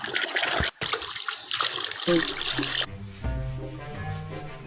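Water rushes over a red toy as it is washed, a steady broadband splash for about three seconds before it stops and quieter tonal background sound carries on.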